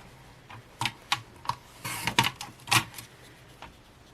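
Paper cut with scissors at a craft table, a series of short crisp snips at irregular intervals with a brief rustle between, close and moderately loud with no talking.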